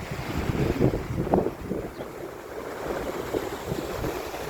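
Steady wind rushes across the microphone while sea waves wash and surge nearby, a continuous blustery roar with no voices.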